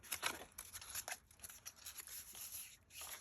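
Scissors cutting paper gussets from a file folder template, a quiet series of crisp snips and rustles in steady rhythm, faint and close.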